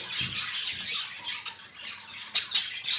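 Young budgerigar chicks, just fallen from the nest, give a stream of thin, high scratchy squawks and chirps at close range, with a couple of sharper louder calls near the end.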